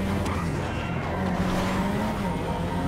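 Steady engine roar of a car being driven in GTA V, held at constant loud level with shifting pitch and faint tire noise, no talk over it.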